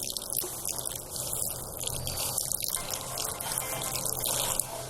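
Water pours steadily into a bowl of semolina, about half a litre to a kilo of grain, a continuous close splashing trickle like a running tap that fills the whole stretch with no talking.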